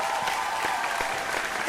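A television studio audience at a singing competition claps steadily and loudly for a brief moment.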